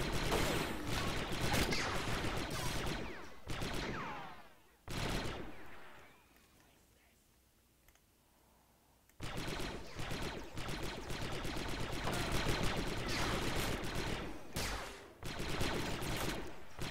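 Gunfire from the World War II strategy video game Men of War: dense, loud bursts of shots and explosive blasts fill most of the clip, broken by a few seconds of near silence in the middle before the shooting resumes.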